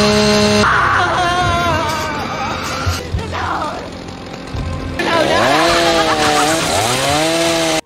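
A chainsaw revs and whines loudly in a film killing scene set in a toilet, its motor pitch rising and falling under screams and dramatic sound effects.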